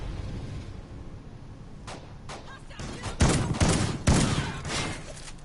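Bursts of gunfire from the Bulldog shotgun in Call of Duty: Ghosts, Infected mode, with several loud sharp blasts spaced irregularly over a steady background of game ambience.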